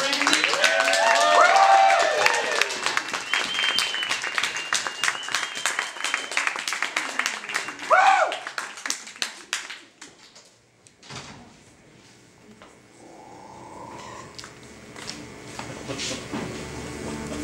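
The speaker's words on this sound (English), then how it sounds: "Give a round of applause to Randy." An audience claps and cheers loudly, the dense applause fading out partway through, followed by quieter room noise.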